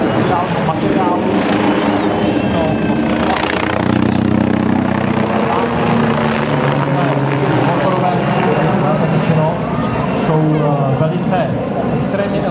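A Flying Bulls Eurocopter MBB Bo105C helicopter with a rigid titanium rotor head performs at the Pardubice air show, its rotor and engine churning loudly and continuously while a commentator talks over it.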